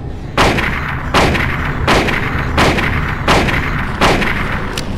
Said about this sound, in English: Let's use the rifle.